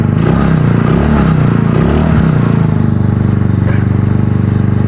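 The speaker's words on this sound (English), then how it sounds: "connected the jumpers to a tiny ass battery, juiced it, gave it power, and look where it's at. The bike starts." A Taotao racer motorbike engine fires up after a jump start and settles into a steady, loud idle with a close revving burst at first and a rattling, clattering running note throughout.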